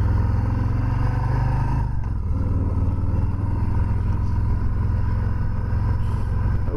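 A 2020 Harley-Davidson Softail Street Bob 107 cruises along with a deep, steady engine rumble heard close up, easing off briefly before settling back into an even drone, with no talking over it.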